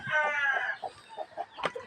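A brooding hen sitting on a clutch of eight eggs gives soft, low clucks and a few harsher, drawn-out calls at close range, with no talk over it.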